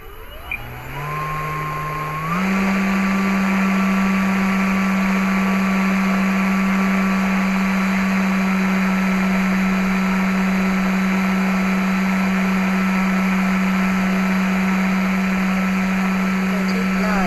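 An electric motor on a radio-controlled model spins up in two quick steps to a loud, steady high-pitched whine at full throttle, holding constant close to the microphone.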